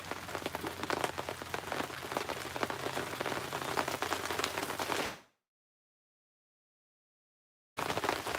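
Rain pours steadily outdoors during gold sluicing, a dense, close patter of drops on surfaces that cuts out abruptly to silence for a few seconds before returning.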